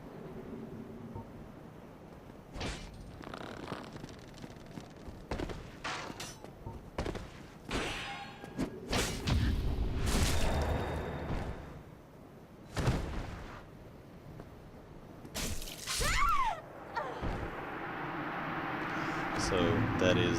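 Kick attacks and other melee strikes in a Dark Souls player-versus-player duel in the Undead Burg, sharp thuds and clangs scattered irregularly at moderate loudness, with someone talking over them.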